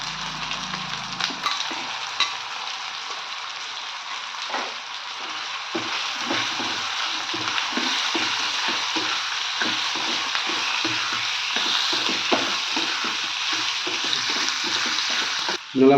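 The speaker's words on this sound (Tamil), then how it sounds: "அப்புறம் அந்த நம்ம வெட்டி வச்சுருக்கிற பேரிச்சம்பழம், மாங்காய் ரெண்டையும் போட்டு நல்லா வதக்கணும்." Chopped dates, raw mango, onion and ginger garlic paste sauté in hot oil with a steady, close sizzle. A spoon stirs and scrapes through the pan at frequent intervals.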